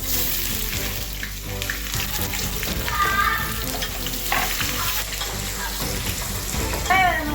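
Onions fry in hot oil with bay leaves for a vegetable biryani, a dense, continuous close sizzle broken by stirring scrapes and bubbling crackles throughout.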